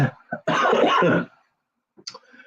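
Someone clears their throat with a rough, husky cough, followed by a short pause and a softer throaty sound.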